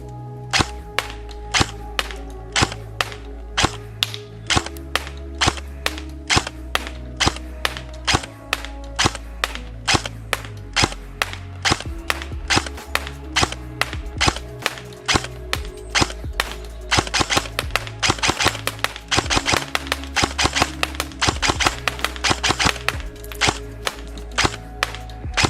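Specna Arms SA-J06 Edge Aster V3 AK74-style airsoft electric gun firing a long run of rapid, sharp snapping shots in steady bursts, loud and close, with no talking.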